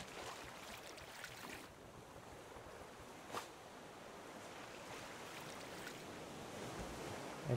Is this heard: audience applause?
no